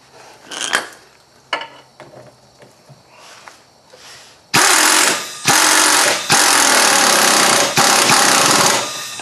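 Impact gun running a nut back onto a CV axle on a 2001 Buick Park Avenue, loud close bursts of harsh rattling hammering after a few lighter clanks and tool handling.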